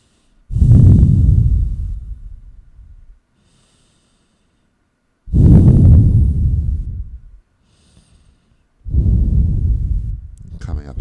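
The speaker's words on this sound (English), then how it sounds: "Deepening our breath." Three long, deep yoga breaths, each a loud, close inhale or exhale that swells and then fades, with short silent gaps between them.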